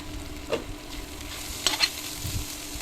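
Sliced bitter gourd fries in a pan and gets stirred, with a soft, low sizzle and a few short scraping strokes of the spoon, close but quiet, and no talking.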